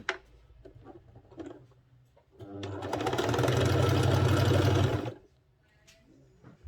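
A sewing machine stitches down a sleeve on a men's senator wear garment, running in one loud, steady burst of about two and a half seconds between quieter handling sounds.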